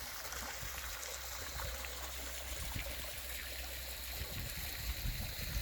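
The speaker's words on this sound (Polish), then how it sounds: "Dolewam troszkę wody" Water is poured into a garden pond, giving a steady trickling and splashing that runs evenly from start to finish, close by and fairly quiet.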